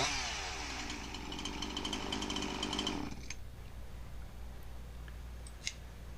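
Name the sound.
Husqvarna 346xp chainsaw running after base gasket repair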